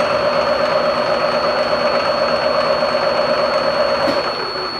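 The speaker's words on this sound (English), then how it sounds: "This turns the spindle on." The spindle motor of a CNC Bridgeport milling machine runs with a steady, fairly loud hum and a constant high whine that holds unchanged throughout, with no voices.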